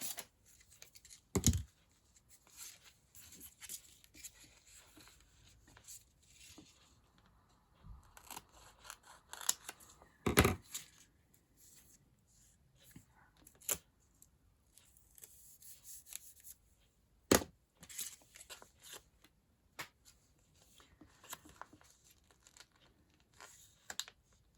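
Scissors snip through paper embellishments in sparse, sharp cuts spaced several seconds apart, close and fairly quiet, with light rustling and handling between the snips.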